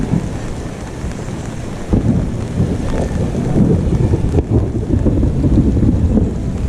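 Thunder rumbles through a rainy storm on Daytona Beach, with steady low roaring and wind buffeting the microphone throughout, plus a heavier surge around two seconds in, all fairly loud and close.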